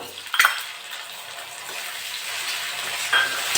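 Shrimp hit a pan of frying onions with a sharp sizzle burst and a clatter, then settle into a soft steady hiss with another stir clack near the end.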